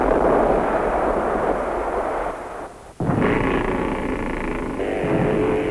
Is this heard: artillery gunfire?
yes